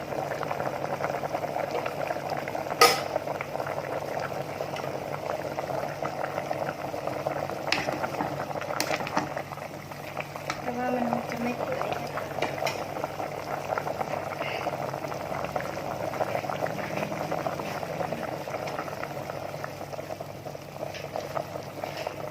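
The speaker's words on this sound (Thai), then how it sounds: "ตอนนี้กำลังเดือด ผ่านไปแล้ว สามสิบนาที" Bamboo shoot curry boils in a rice cooker pot used as a curry pot, a steady bubbling simmer with occasional louder pops and clicks, close by, with faint voices now and then in the background.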